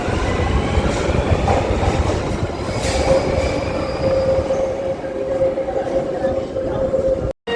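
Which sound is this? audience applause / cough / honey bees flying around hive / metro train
metro train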